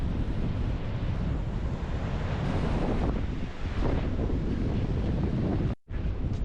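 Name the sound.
ocean waves and wind at the coast, Skegness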